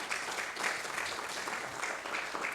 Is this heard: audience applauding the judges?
yes